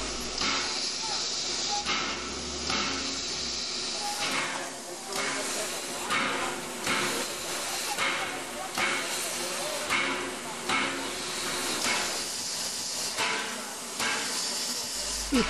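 Steam locomotive 740 278 hissing and chuffing on a heritage run along the Oglio river toward Paratico, with rhythmic rail noise throughout and someone talking over it.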